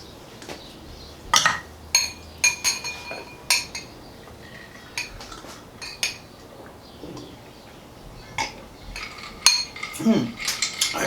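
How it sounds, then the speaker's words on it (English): Flour and cheese are stirred gently in a bowl, making irregular close clinks and scrapes of a utensil against the dish, with quiet gaps between strokes. "Put the flour in the cheese. And just kind of give it a little gentle stir."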